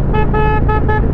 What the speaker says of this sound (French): Avec toujours ce klaxon là,